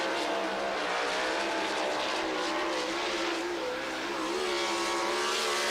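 A World of Outlaws race car laps I-55 Raceway Park on a qualifying run, its engine a loud, steady, high-pitched roar with rising and falling pitch through the turns, heard up close with no talk over it.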